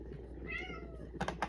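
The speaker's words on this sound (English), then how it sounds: "apparently my cat says something different." A domestic cat meows twice in short, close bursts near the end, after a quieter stretch of indoor background noise with a faint earlier vocal sound.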